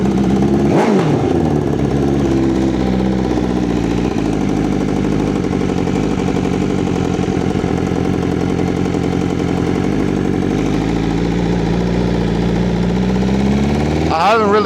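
A motorcycle engine idles steadily and loudly close by for the whole stretch, with a brief revving surge near the start and again at the end.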